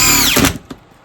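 A torque-limited power driver tightens screws on a Team Associated SR10M RC car kit, giving a short, close whirring burst that winds down and stops, followed by a faint click.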